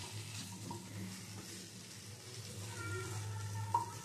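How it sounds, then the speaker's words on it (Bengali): Bottle gourd, drumstick stalks and ginger stirred in a hot pan, a soft low sizzle with faint stirring scrapes and a small clink near the end. "এবারে লাউ সজনের ডাঁটার সাথে আদা ভালো করে মিশিয়ে নিচ্ছি।"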